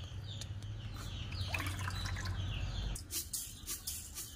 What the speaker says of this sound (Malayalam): ആ കോഴിമുട്ട ആദ്യം ഒഴിക്കുക.